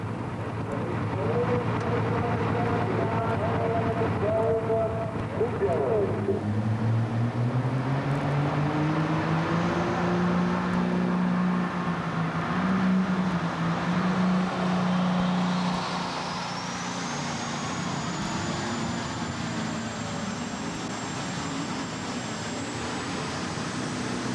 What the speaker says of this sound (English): Leon Haney doing everything to keep that tractor in bounds